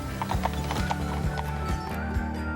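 Horse hooves clip-clop steadily in a regular rhythm as a wagon train rolls along, with an occasional whinny and low rumbling underneath, fairly close and continuous.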